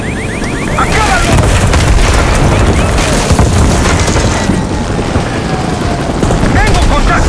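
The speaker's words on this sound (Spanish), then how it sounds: "¡Misiles y helicóptero en camino!" Helicopter and incoming missiles in the Call of Duty Black Ops 6 campaign, a dense continuous roar of rotor noise, booms and gunfire, loud and close throughout, with shouted voices briefly heard.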